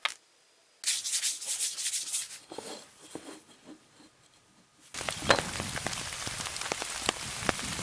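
Steady rain falling outdoors, a dense hiss of drops pattering on a surface, preceded by a few seconds of scraping and rubbing sounds before the downpour takes over fully.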